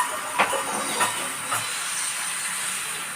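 An egg dropped into hot oil in a pan for a shop-style egg roll, giving a steady broad sizzle with a few brief crackling pops, close and continuous with no talk.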